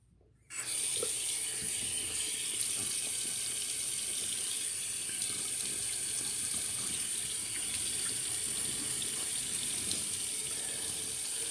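A bathroom tap runs steadily while a shaving brush is wetted under it, a loud continuous splashing rush starting abruptly after a brief quiet moment and holding even to the end.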